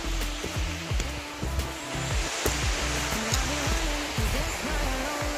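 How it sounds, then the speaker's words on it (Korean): Waterfall beside a Jirisan trail, a steady broad rush of falling water close by, with a few faint bird calls and short voice sounds woven through the continuous roar. "폭포 맞지?"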